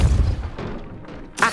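Depulso force spell cast in the Hogwarts Legacy video game: a heavy thumping blast with a booming low impact, quickly fading, followed by a brief bright burst at the end.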